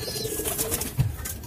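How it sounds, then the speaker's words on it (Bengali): Male pigeons coo softly in a loft, a low murmuring under steady background noise, with one slightly stronger coo near the end. "এইখানে আমার পাট্টা কবুতরগুলো আছে"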